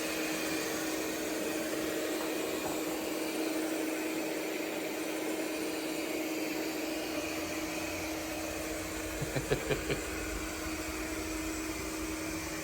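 An ERABROS LS1 robot vacuum cleaner, fan on medium, drones steadily with a constant whirring hum and airy hiss throughout, close by, with a brief cluster of faint clicks near the end.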